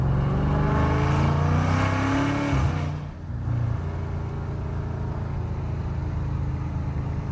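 A Dodge Hemi V8 car engine revs loudly close by, its deep rumble climbing and then dropping back to a steady idle-like drone.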